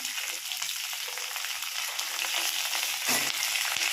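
Onions, curry leaves and green chillies fry in a pan for mint chutney, giving a continuous crackling sizzle that swells slightly near the end, with no talking.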